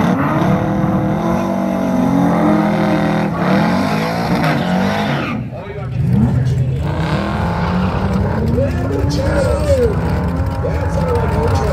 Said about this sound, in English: That sounded like your truck.